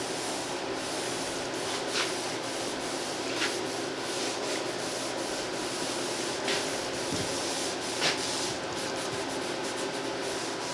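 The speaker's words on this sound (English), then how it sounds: "very carefully, by hand, sand this molded edge" By-hand sanding of a molded wooden edge on a water-damaged antique buffet, a continuous close abrasive rasp with faint stroke-by-stroke pulses and no talking.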